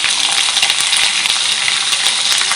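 Spices for a parshe fish curry with lau shak stems fry in a pan with salt, turmeric and chilli, giving a steady, close sizzle with faint stirring clicks and no voices.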